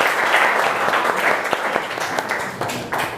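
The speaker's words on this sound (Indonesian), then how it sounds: "tepuk tangan untuk kita semua" An audience applauds together at a morning session of a vocational school class on washers and welding, a dense, steady clapping that fills the room evenly at close range, with a few sharper individual claps standing out.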